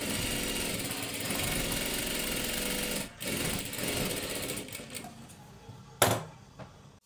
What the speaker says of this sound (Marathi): ह्या सुद्धा बाजूला त्याच पद्धतीने आपल्याला डबल शिलाई मारून घ्यायची आहे